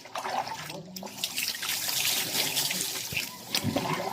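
Cold water trickles and splashes nearby at a bathing spot, steady and moderately loud, with brief voices and some knocks mixed in.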